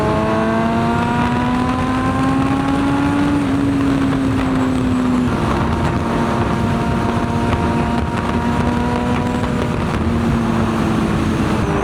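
A motorcycle with a fresh Stage 1 tune riding on a group ride, its engine droning steadily and loudly through the whole stretch with slight pitch rises, under constant wind rush.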